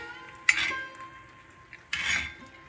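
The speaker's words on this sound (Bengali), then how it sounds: "এবার ছানাটা পাক দিচ্ছি," Sweetened chhena being stirred in a wok for modak, with two distinct scraping, clinking strokes of a utensil against the pan amid quiet pauses.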